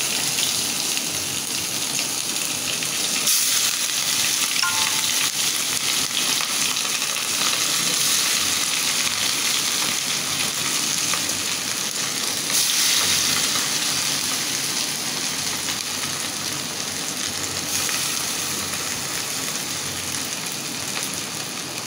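Hot mustard oil crackles and sizzles in a pan for a hilsa fish curry, a dense, continuous hiss holding steady and fairly loud for the whole stretch.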